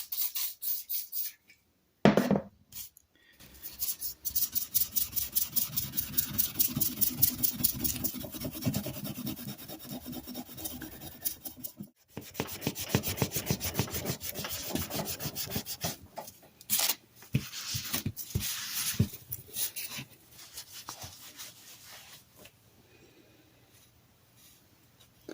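A 1940s Sargent hand plane's lever cap is rubbed with 4/0 steel wool and WD-40, giving a steady scratchy, rhythmic scrubbing close up, with a few short pauses and a fainter stretch near the end.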